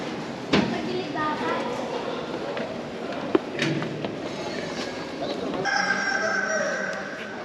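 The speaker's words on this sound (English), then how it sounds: "So I'm not too sure why roosters are in these caves." Rooster crows ring out over a murmur of people talking inside caves near Kuala Lumpur, Malaysia, with an echoing, hollow ambience and occasional sharp knocks.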